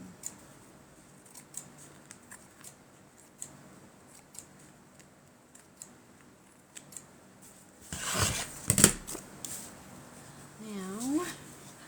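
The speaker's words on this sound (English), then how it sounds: "maybe I'll cut some of that down" Scissors snipping paper for a junk journal, a sparse series of small, quiet clicks and cuts spread through the clip, followed by a louder burst of rustling handling and a brief squeaky sound near the end.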